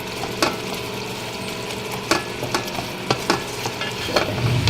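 Mashed tomatoes fry over high heat for a dhaba-style chicken karahi, giving a steady close sizzle broken by several sharp stirring scrapes of a utensil against the pan.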